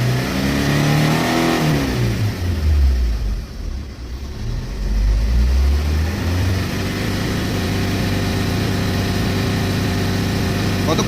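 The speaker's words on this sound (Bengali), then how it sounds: "তুমি আরেকটু হিট করো গাড়িটা" A Chevrolet Enjoy's engine revs up and down while warming up during coolant temperature switch work, loud and close, with surging rises near the start and middle before settling into a steady run, and someone talks over it.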